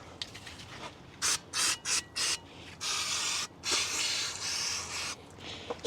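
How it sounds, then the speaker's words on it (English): Brake cleaner hisses from an aerosol can onto a car's brake rotor, first in several short sharp bursts and then in longer continuous sprays, loud and close. "Spray down the rotor."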